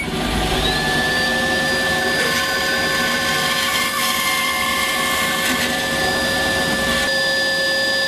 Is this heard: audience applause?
no